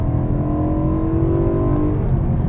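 A BMW E92 M3's naturally aspirated S65 V8 revs up hard and loud, its rising engine note climbing steadily then easing off, sustained and close throughout with no talking.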